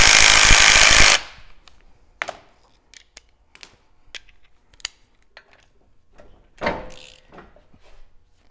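A pneumatic impact wrench removing 14 mm flange bolts from the CV axle of a 100 Series Land Cruiser (LX470) rattles in one loud, continuous burst of about a second. Quiet metallic clinks and taps of tools and parts follow.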